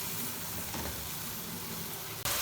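Ground red chilli and turmeric powder fry in oil for dhaba-style aloo palak, a soft continuous sizzle and hiss held close and even before a sudden louder burst at the end.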